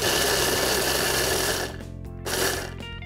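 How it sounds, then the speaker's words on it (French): Food processor chopping hazelnuts into a mix of powder and small pieces, a loud steady whirring grind that cuts off, then a brief second pulse before winding down. "Maintenant, je vais mixer mes noisettes."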